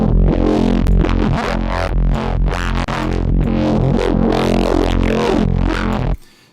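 A loud, gritty synth bass line with tube-style distortion plays continuously, thick and saturated, with shifting tones before cutting off abruptly at the end.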